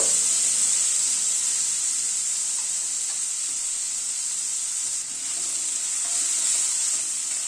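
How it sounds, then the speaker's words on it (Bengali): Papaya with salt and turmeric sautéing in a pan, a steady bright sizzle with soft stirring scrapes running continuously and close, with no voices. "নুন হলুদ দিয়ে পেঁপেটাকে একটু সাঁতলে নেব।"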